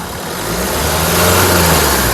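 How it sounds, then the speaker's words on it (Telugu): A 2015 Mahindra XUV500 SUV engine idles and then revs up, the drone rising and holding loud and close for a couple of seconds. "ఇంజిన్ యొక్క నాయిస్ చాలా సైలెంట్గా అయితే ఉందండి"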